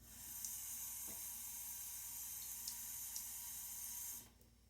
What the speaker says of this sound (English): I'm going to pour the rest in here